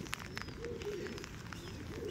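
Pigeons coo softly in a low, rolling rhythm, faint and somewhat distant, under a steady hiss of falling rain.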